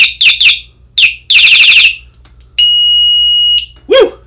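A Hornit dB140 bicycle horn, billed as extremely loud, sounds in emergency mode: a burst of sharp chirping warbles, then a sustained piercing electronic tone for about a second, followed by a final rising whoop.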